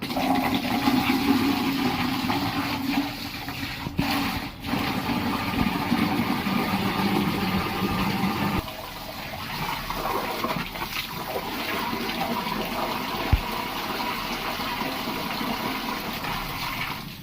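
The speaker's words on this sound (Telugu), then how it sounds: "సో వాటర్ అయితే ఆన్ చేసేస్తున్నా" Tap water runs in a steady, loud gush to rinse freshly cleaned items, with a brief clunk partway and the flow changing tone as the items are moved under it, no voices.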